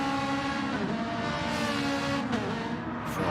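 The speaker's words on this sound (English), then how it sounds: "Ferrari sounding good" A Ferrari GR4 race car engine howls steadily at high revs through a racing video game lap at Tokyo, with dense harmonic drone, brief pitch shifts around gear changes, and constant loudness up close.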